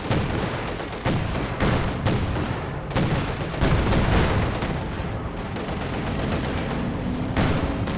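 Company of Heroes 2 battle with dense machine gun fire from an MG42 and an Ostwind: continuous loud rattling bursts and booms layered into a thick wall of combat noise.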